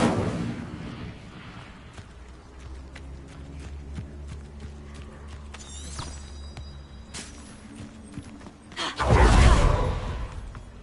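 An Incendio fire spell is cast in Hogwarts Legacy, a loud roaring burst near the end after scattered footsteps, thuds and swishes.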